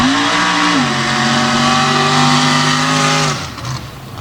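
Full-bodied 1985 Ford Ranger drag racer with an all-Ford engine at a blown alcohol drag race, its loud, steady roaring rev holding high pitch, then dropping off sharply near the end.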